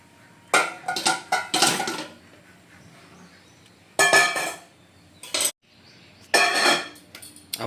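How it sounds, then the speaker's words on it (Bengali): Chicken pieces tipped into a metal cooking pot for Kolkata-style biryani, giving bursts of clattering, scraping metal clinks in several separate runs with quiet gaps between them, close and fairly loud, with no talking. "তো দমে বসানোর জন্য প্রথমে কিন্তু হাঁড়িতে আমরা মাংসগুলো ঢেলে নিচ্ছি।"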